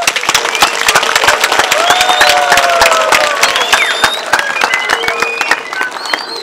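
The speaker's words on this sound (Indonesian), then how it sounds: "Mari kita tepuk tangan dengan meriah" Dense, sustained applause from a congregation at a church blessing ceremony in Atawolo, continuous clapping throughout with a few whistle-like tones and faint voices rising above it.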